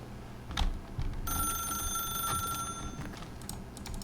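Telephone in The Stanley Parable video game ringing with bright electronic warbling tones, a steady ring lasting about two seconds over a low murmuring ambient background, with a few faint clicks before and after.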